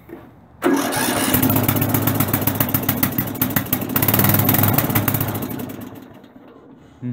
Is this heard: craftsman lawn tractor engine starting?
yes